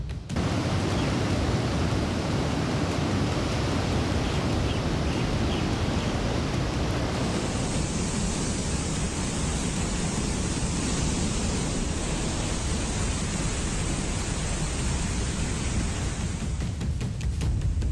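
A raging river in flood after a cloudburst at Bhuntar in Kullu, Himachal Pradesh, roars as a dense, continuous rush of water, loud and steady throughout with no voices.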